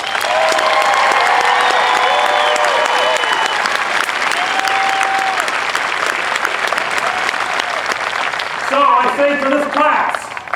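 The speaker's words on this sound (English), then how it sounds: "Round of applause." A large crowd applauds at an Air Force Basic Military Training graduation parade, sustained, loud clapping spread across an open venue, with scattered cheers and a voice briefly rising over it near the end.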